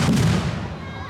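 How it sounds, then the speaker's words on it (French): A grenade goes off at a protest on the ZAD of Notre-Dame-des-Landes: a loud, close blast that booms at once and then fades into a long rumbling echo within about a second. "Attention! Grenade! Grenade!"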